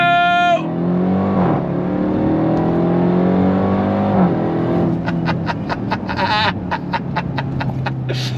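A 2026 Dodge Durango Hellcat Jailbreak SUV with a V8 engine accelerating hard, a loud steady engine roar rising in pitch, then rapid gear-shift bursts and rhythmic pulses near the end.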